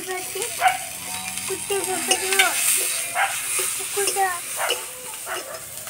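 Chopped tomato and green chilli fry in a pan with a soft, steady sizzle and stirring sounds, while a person talks over it intermittently.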